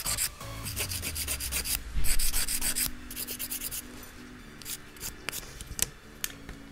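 A file rasps across white and gold gel nails in quick, close back-and-forth scrubbing strokes that come in bursts and then fade to softer rubbing, with no talking.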